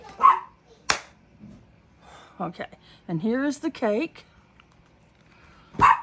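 Dogs bark at a house through an open front door: a few sharp barks come at the start and again at the end, with people talking and a whining, whimpering voice in between.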